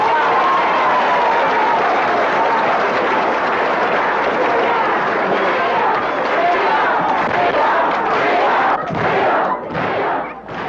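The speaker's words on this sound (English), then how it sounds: "I think freedom deserves another round of applause." A crowd at a 1965 civil rights era gathering in the American South breaks into sustained, dense applause that stays loud and steady for about ten seconds before tapering slightly.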